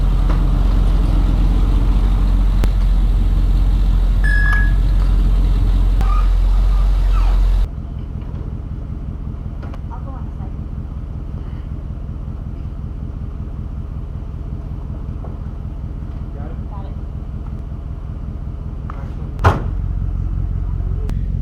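A 1985 Fox body Ford LTD fitted with a Hilborn Ram Air hood scoop runs steadily close by, a loud engine drone for the first stretch that drops to a lower, quieter rumble, with one sharp knock near the end.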